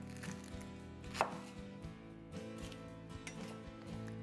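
An onion is cut for homemade kimchi with a few soft, close knife chops on a board over a quiet steady background, one stroke clearly louder than the rest.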